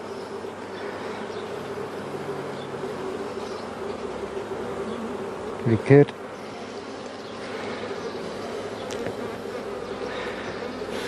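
Honey bees hum continuously around an opened hive during a beekeeping inspection, a dense, even buzz throughout. A brief nearby knock interrupts it midway, and a voice speaks briefly.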